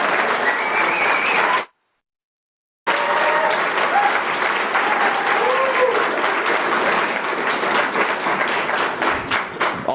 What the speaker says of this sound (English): I think we all owe a round of applause to Senator Mike Crane and Tracy